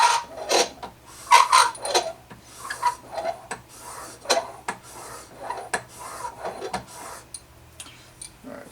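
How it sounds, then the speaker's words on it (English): A chisel is sharpened on a curved sharpening stone, a series of close, gritty rasping strokes in an uneven back-and-forth rhythm with brief pauses between passes. "sharpening stone, making sure to keep pressure just on the chisel, not on the two sides."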